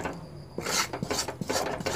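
A puffed rice sweet mixture is stirred in a pan over very low heat, giving a rhythmic scraping and rasping of the utensil against the pan in close, repeated strokes.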